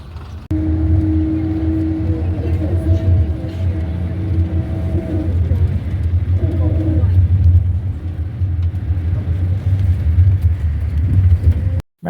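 Road traffic in Marrakech: a loud, steady rumble of car and moped engines with low droning tones, passing vehicles and occasional revving, heard close and continuous until a brief cutoff at the end.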